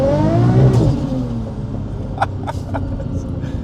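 A Nissan S15 Silvia with a big-turbo RB25 engine accelerates hard from inside the cabin, its engine note rising loud and close before it settles, with a few sharp clicks afterward.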